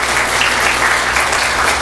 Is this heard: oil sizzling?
no